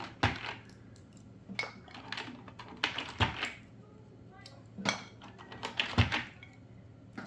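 Keys from a Tandy 1000HX keyboard are handled during a restoration, giving sharp plastic clicks and taps in irregular bursts, close by with small clattering clusters.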